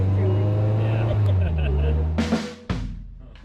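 A 2022 Slingshot three-wheeled vehicle driving, a close, steady engine drone that shifts pitch and then cuts out in two abrupt bursts near the end, under the engine a voice is briefly heard.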